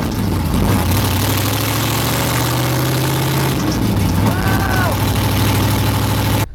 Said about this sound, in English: here is the last video, or basically when I got the car, what it sounded like with just the straight open headers